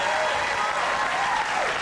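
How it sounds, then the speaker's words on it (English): Brief burst of studio audience applause on a late-night talk show, a dense, even patter of many hands clapping at moderate volume across the short span. "That does deserve a round of applause"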